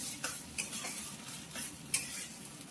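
Food frying in oil in a pan while a Bengali fish curry is cooked, a steady hiss with a few soft scrapes and clinks of stirring, moderately close.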